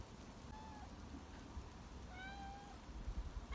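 Kittens mew in thin, high cries, a few short calls spaced apart at a quiet distance, with faint patter and low rumbling in the background.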